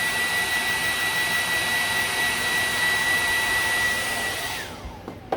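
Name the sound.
heating white furniture wax with a heat tool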